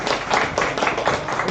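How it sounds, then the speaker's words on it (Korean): A church congregation claps in a steady, rhythmic beat, many hands together at moderate loudness throughout the short stretch. "오늘 박수합시다."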